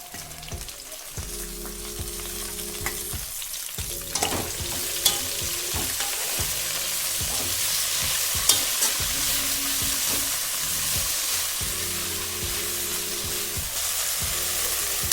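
Garlic, curry leaves and mint frying in hot oil in a pan for tomato pickle, a steady close sizzle with scraping stirs and occasional light pops throughout, no talking.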